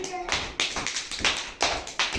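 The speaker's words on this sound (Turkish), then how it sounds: "Aferin alkışlayalım Ayşan'ı." A group of children clap in bursts of applause during a classroom quiz, several short rounds of hand claps repeating about every half second, close and fairly loud with no talk over them.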